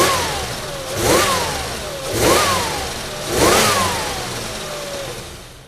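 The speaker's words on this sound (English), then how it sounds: "An IAC that is lazy or that possibly over-travels the command given by the ECM often can be found by performing a throttle snap test" A 1993 Buick 3.8L V6 revved in a throttle snap test being checked for a lazy idle air control valve: three quick, evenly spaced revs, each rising sharply and sliding back down to idle, close and clear.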